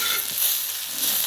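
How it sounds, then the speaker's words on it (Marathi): Okra pan-roasting on a flat iron tava for a spicy curd okra dish, giving a steady, close, continuous sizzle and hiss with no talk, holding an even level throughout. "आपल्याला भेंडी तव्यावरच भाजायचं आहे इथं"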